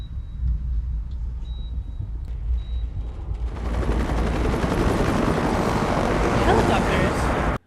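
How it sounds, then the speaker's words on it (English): Helicopter rotor noise in a Walking Dead episode, starting as a low rumble then swelling into a loud, dense, steady roar of beating blades that dominates everything. "Helicopters."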